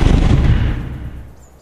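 Explosion: one loud, close blast with a dense, booming burst that decays over about a second and a half, heard alone.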